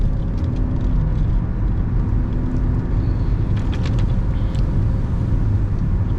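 Car accelerating as it pulls out, a steady loud engine rumble heard from inside the cabin with light rattles, no voices.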